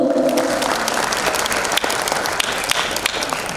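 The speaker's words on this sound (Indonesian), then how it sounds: "Tepuk tangannya Bapak Ibu." Audience applause at a ceremony where Malang's acting mayor launches QRUPI, a dense, loud, continuous clapping that fills the whole stretch without a break.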